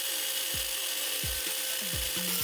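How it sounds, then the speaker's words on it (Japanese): Steel stock is sawn at an angle to prepare a piece for welding: a steady, close grinding rasp runs throughout, with a few low knocks along the way and no speech. "続きまして溶接する鉄材の切り出し斜めにカットします。"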